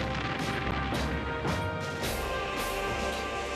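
Cannon fire opens the naval battle of Lepanto in a historical reenactment, heard as a run of heavy booms and crashes layered over a dense, constant rumble of battle noise.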